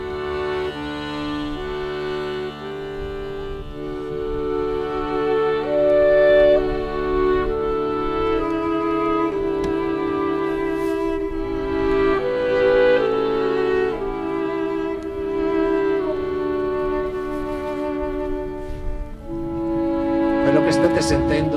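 Mozart's Ave Verum Corpus played live by a small variable orchestra with voices, a slow sustained harmonic texture of strings and singing that swells gently and continues steadily throughout.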